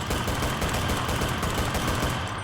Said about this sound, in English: Now what about semi-auto weapons? Well, if you're shooting them